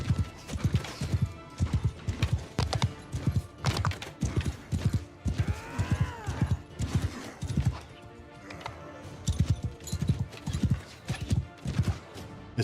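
Horse archers' hooves clip-clop in steady, rapid galloping rhythm across a Warhammer fantasy battle in The Old Realms mod, loud and continuous, with occasional horse whinnies mixed in.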